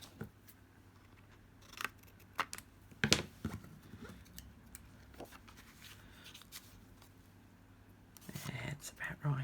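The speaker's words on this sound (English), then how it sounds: "So I'm just going to trim it down" Paper being trimmed to size with scissors at a craft table, a few close, crisp snips and rustles spread across a quiet background.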